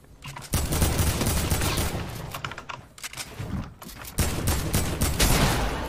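Rapid gunfire in the Fortnite video game, loud and continuous bursts of shots with brief dips, filling the whole stretch with no talking.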